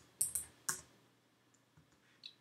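A few crisp keystrokes on a computer keyboard, three quick taps close together, then quieter scattered clicks, heard up close in a quiet room with no talking.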